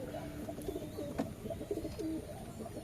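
Soft repeated cooing of a pigeon nearby, low throaty calls in a short rhythmic series against quiet background.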